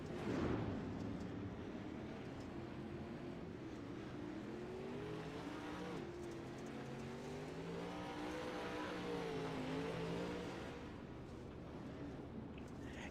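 Dirt late model race cars rolling in a pack behind a Chevy Silverado pace truck, a steady layered engine drone with overlapping harmonic tones rising and falling as cars throttle under caution, continuous for the whole stretch.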